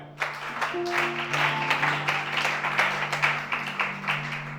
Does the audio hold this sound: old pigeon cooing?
no